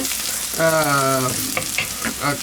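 Onion, green chilli and curry leaves frying in a pan, a brief crackling sizzle with a ladle scraping through them, close by, with a faint tonal hum over part of it.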